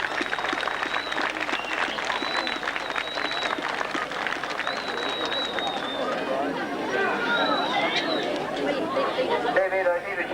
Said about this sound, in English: Give DMC a good clap.